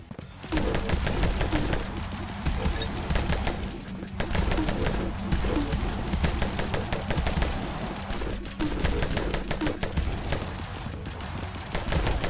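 Repeated shotgun blasts from the Vampire Hunters video game, firing in rapid succession with dense, continuous gunfire over a steady backdrop of game action, loud and close throughout.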